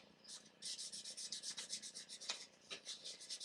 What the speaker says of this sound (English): I might forget if I don't sand this now